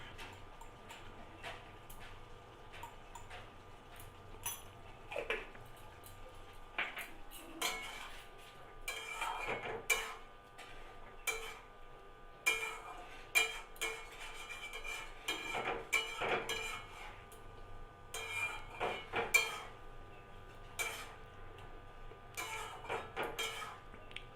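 Spoon stirring spices through pointed gourd and potato curry in a pan, repeated scraping and clinking strokes against the metal in an uneven rhythm, close and moderately loud over a faint background hum, with no talking.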